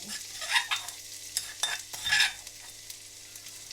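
Wild garlic leaves stir-fried with oyster sauce, an irregular run of spatula scrapes and tosses over a soft sizzle, close and moderately loud with no speech.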